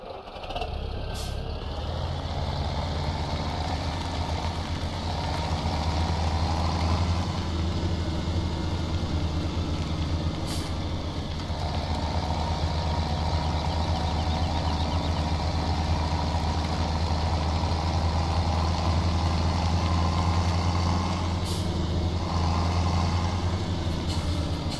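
Tractor in Farming Simulator 17 during canola planting, a steady low diesel engine drone running continuously and loud, with a few faint clicks and hisses over it.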